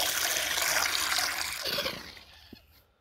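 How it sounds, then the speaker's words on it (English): Water gushes steadily into a cooking pot at a campsite on the C&O Canal trail. The loud rushing pour tapers off and ends with a small splash, and no one speaks. "Water in the pot."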